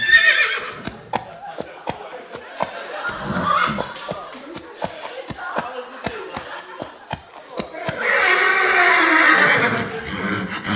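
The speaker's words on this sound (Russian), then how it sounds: "И был у него верный конь." At a wedding contest, a horse-like whinny rises over a run of sharp, evenly spaced clip-clop beats, with a crowd murmuring and a louder burst of noisy activity toward the end.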